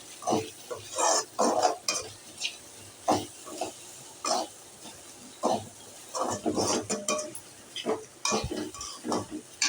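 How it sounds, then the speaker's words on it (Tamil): A spoon stirs grated coconut into a raw banana poriyal in a pan, giving quiet, intermittent scraping and shuffling strokes in uneven bursts over a faint sizzle. "தேங்காய் துருவல் சேர்த்துட்டு இதை நல்லா வந்து கலந்து விட்டுறலாம்"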